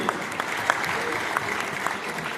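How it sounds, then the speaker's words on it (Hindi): Applause for a mentor at a DXN business meeting in Bihar: a crowd claps steadily and loudly throughout, with a few sharper claps standing out near the front. "जोरदार तालियां मेंटोर के लिए"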